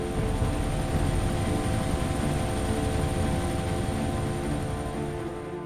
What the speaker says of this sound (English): Helicopter between the hotel and y'all